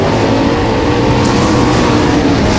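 Race cars roar around a quarter-mile dirt oval at a night race in Brownstown, Indiana, a loud, dense, continuous engine din filling the whole stretch.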